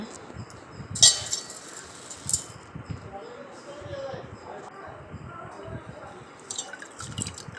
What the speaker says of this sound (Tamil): அதில் 1/4 கிளாஸு பருப்பு போட்டுக்குவோம், சாம்பார் பருப்பு. அதை நல்லா கழுவி எடுத்துகிட்டு வந்துடலாங்க.